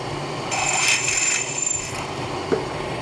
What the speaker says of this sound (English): when I do my belt sanding